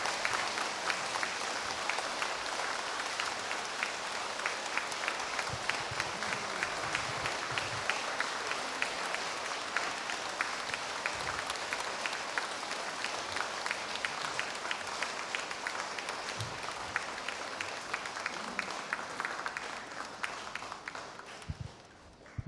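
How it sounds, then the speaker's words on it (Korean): Large audience at a Buddhist temple Dharma service giving sustained, dense applause to welcome a visiting monk, a continuous roar of many clapping hands lasting the full stretch before gradually tapering off at the end. "더 큰 박수로 맞이해 주시기 바랍니다."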